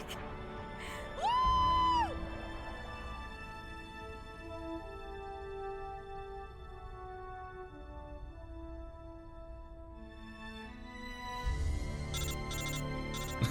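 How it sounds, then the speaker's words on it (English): A phone rings in the video game Metal Gear Solid Delta, a bright electronic warbling tone repeating for about a second near the start, loud over a steady low game ambience, with more synthetic chirps coming in near the end. "Damn phone call."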